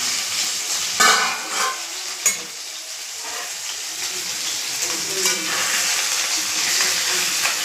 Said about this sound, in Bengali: দেখো মাছ আমার ভাজা হয়ে গেছে